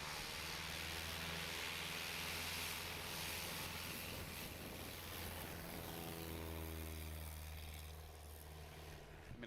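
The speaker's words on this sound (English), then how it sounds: "And here's Curtis Thomas, Bush class, getting his landings in." A bush class STOL airplane lands at a National STOL qualifying event, its engine droning steadily with a gradual pitch glide downward as it slows, moderately distant with no talk.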